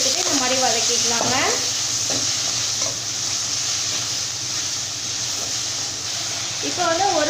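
Tomato and vegetables sautéing in a pan for sambar, a steady loud sizzle and frying hiss throughout, with occasional stirring scrapes, while someone talks over it.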